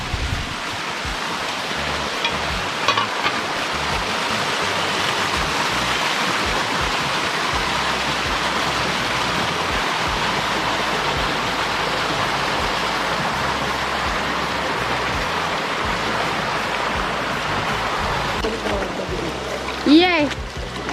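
A river flows steadily at a riverside in Bluefield, Westmoreland. The broad, constant rush of water carries through the whole stretch, with a brief louder disturbance near the end.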